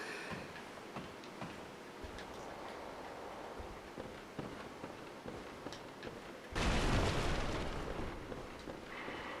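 An explosion in the Bloodborne video game, where a trapped chest blows up. It comes as a sudden loud, broad blast after a stretch of quieter game ambience and footsteps, then sustains as a roaring rumble.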